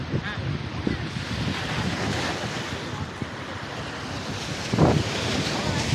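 Surf washes onto a broad beach at Kurşunlu near Gemlik in Bursa, a continuous rolling wash with wind buffeting the microphone and a louder surge near the end.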